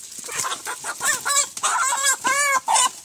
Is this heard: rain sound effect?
no